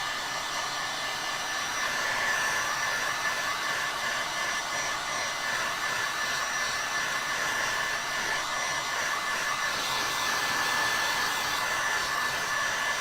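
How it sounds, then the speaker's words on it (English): A hair dryer blows on acrylic paint on a craft project, a steady close whirring roar that runs unbroken throughout with no voices. "I have to use my dryer here for just a second."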